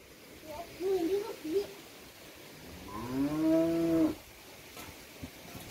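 A buffalo at home gives one long, drawn-out low from close by, after a short burst of a human voice.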